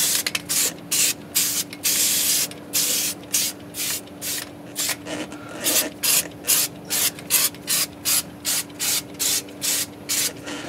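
Repeated bursts of undercoating spray from an aerosol can coating a car wheel well, a steady hiss broken into rhythmic short blasts with brief pauses, close and loud with no talking.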